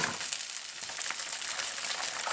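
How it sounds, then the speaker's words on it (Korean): Clams sizzle and fry with peperoncino in a hot pan, giving a steady, close crackling hiss that runs unbroken throughout with no talking. "하여튼 페퍼론치노를 넣고 향을 내면 바지락도 같이 볶아줍니다."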